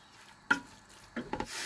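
Onions with salt being stirred and fried in a pan for a fish dum biryani make a few brief, soft scraping strokes of the spoon against a quiet background.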